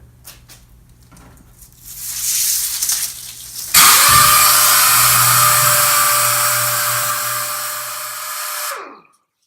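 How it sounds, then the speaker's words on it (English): A power sander whirs up to a steady high whine while smoothing a drywall patch in circular passes, running loud and close for several seconds before spinning down, after some brief scuffing beforehand. "I'm going to focus more on a circular pattern with the sander"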